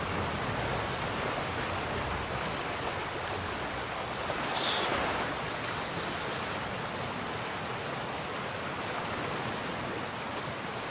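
Water and surf washing steadily in the game Ryse: Son of Rome, a broad continuous rushing wash of waves with a brief brighter swell near the middle and no voices.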